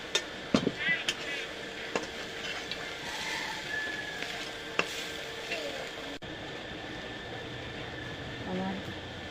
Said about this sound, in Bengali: এভাবে নেড়ে চেড়ে খানিক সময় ভেজে নিয়েছি